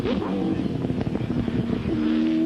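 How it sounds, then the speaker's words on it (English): Race cars from the 2002 V8 Supercars Development Konica Series thunder down Conrod Straight at Bathurst, a loud continuous engine roar with a sustained high drone and rising pitch, close and dense throughout. "These two cars very evenly matched, both trying to force an error as they thunder down Conrod Straight once again."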